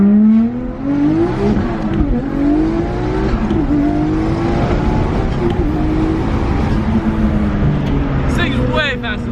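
A Mitsubishi Evo 5 accelerates hard at high speed, its engine note climbing loud and steady with gear changes, heard from inside the car with people talking over it.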